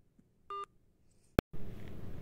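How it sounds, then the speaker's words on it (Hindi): A single telephone keypad tone pressed to confirm a call, a short clear beep in quiet, followed by a sharp click and then faint line noise. "उसने बस कंफर्म करने के लिए एक नंबर दबाने के लिए बोला मैं दबा दिया हूँ"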